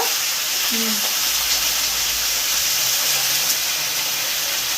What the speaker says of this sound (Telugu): ఫ్రై అయ్యే మిర్చిలో మనం గొంగూర వేద్దాము